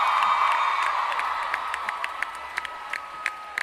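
Audience at a 2015 Comic-Con panel for the Once Upon a Time cast claps and cheers steadily throughout, a dense wash of applause that slowly fades with a few louder individual claps near the end.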